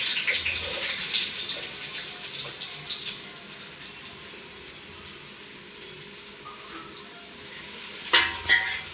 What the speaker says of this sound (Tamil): ஆயில் வந்து இப்போ நல்லா சூடாகிட்டு இப்போ வந்து நம்ம கட் பண்ணி வச்சுருக்கிற ஆனியன் ஆட் பண்ணிக்கலாம்.